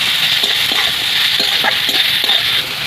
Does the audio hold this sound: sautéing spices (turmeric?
yes